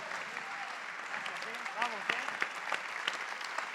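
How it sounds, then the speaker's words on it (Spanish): Audience applause at a family-themed talk event, steady clapping of moderate loudness with voices and cheering calls mixed in throughout. "Aplausos, ahí estamos."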